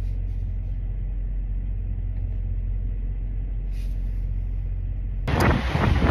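Car driving on a road heading east through Illinois, a steady low rumble of engine and tire noise from inside the cabin, with a louder burst of broadband road noise near the end.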